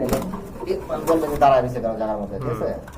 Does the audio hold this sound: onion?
no